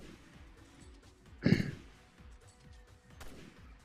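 A single sharp gunshot-like burst aimed at a hunter creature in Resident Evil Revelations 2 Raid Mode, loud and close, with quieter game ambience before and after.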